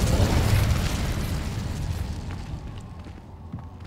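The Incendio fire spell in Hogwarts Legacy lets off a loud, deep whooshing burst of flame that swells at once and slowly fades away.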